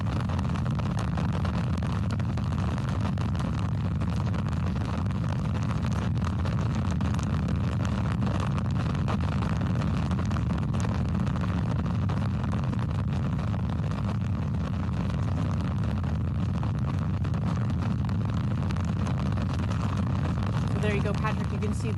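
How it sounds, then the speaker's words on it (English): A Blue Origin BE-4 rocket engine roars through a test firing, a continuous dense, broadband rumble holding steady for over twenty seconds with no letup. "See the BE-4 engine testing."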